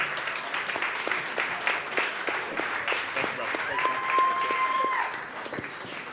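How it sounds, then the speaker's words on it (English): Audience applause at a live podcast taping as guests from a veterans group come up, steady clapping with people talking over it and a brief tonal beep partway through. "Give them a round of applause,"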